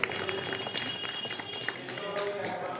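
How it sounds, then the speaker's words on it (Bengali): An audience claps at a photography exhibition event in New Barrackpore, a steady spread of applause running throughout with a voice speaking over it. "একটু সবাই হাততালি দিন।"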